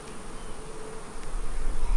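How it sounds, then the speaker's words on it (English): Bees swarm around an open beehive frame, a steady close buzzing drone that grows a little louder toward the end, with no talk. "All right, here's some bees."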